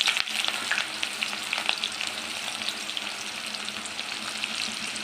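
Thinly sliced onions fry in hot oil in a kadai for mutton keema curry, giving a dense, continuous close-up sizzle with crackly bright spatters and no voices over it.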